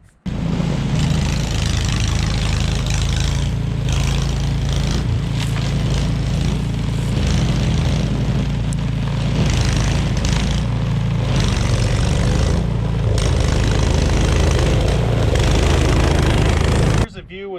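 A Simplicity 1222EE single-stage snow blower throws wet, heavy snow, its engine roaring loud and close in a continuous, slightly fluctuating drone that cuts off abruptly at the end.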